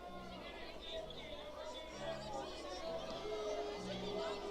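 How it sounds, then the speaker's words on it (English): Lively basketball crowd at a women's college game, Montana Western versus LC State, a constant murmur of many voices with scattered shouts rising over the hubbub, heard from within the arena. "The crowd getting pretty lively."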